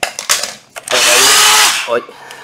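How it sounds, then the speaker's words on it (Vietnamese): A Hitachi 18V cordless concrete drill with brushes gets a few short trigger pulls, then runs in one loud, sustained whir for almost a second before winding down, heard close up. "Ở đây mình có một cái khoan bê tông Hitachi 18V."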